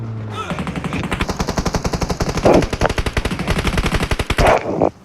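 Rapid automatic gunfire in the mobile game PUBG Mobile, a long continuous burst of loud, close shots in a fast even rhythm, lasting nearly five seconds before cutting off.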